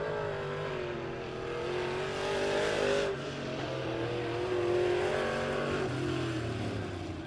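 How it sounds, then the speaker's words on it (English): Race cars roar out of turn 4 at Bolivar Speedway, a steady, loud engine drone that swells as the leader stays on the throttle, several engines blending together with no talk. "Gibson is not lifting off the throttle as he's going to come out of turn 4 and lead another lap."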